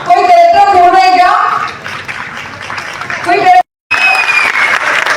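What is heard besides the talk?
audience applause for drama performers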